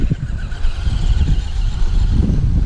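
Vintage Traxxas Sledgehammer RC car with an old motor and ESC, a loud, close, continuous buzzing motor whine that holds steady with slight surges throughout.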